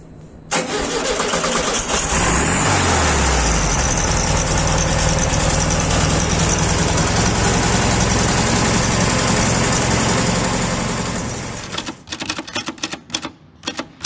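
A 1973 Volkswagen Beetle engine cranks and catches, then settles into a loud, steady air-cooled idle that runs for about ten seconds before fading into scattered clicks and knocks at the end.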